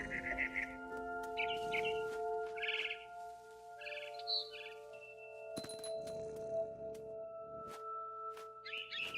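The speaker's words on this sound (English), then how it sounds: "Then I heard chirping outside my window." A barn swallow chirping outside a window in the video game What Remains of Edith Finch, short bright bursts of tweets repeating in clusters over a sustained musical drone.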